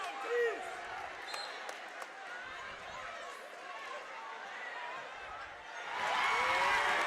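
A crowd at a high school basketball game is heard in the stands, with steady murmur, chatter and scattered shouts that swell louder and more excited near the end.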